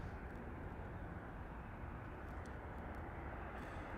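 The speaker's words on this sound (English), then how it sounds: "this was Southwest Flight SWA 3305 with service to Oakland, California. Boeing 737" A Boeing 737 airliner on a Southwest flight at Las Vegas Harry Reid International Airport gives off a steady, broad jet roar that holds at a constant level from start to end, heard from a distance without voices.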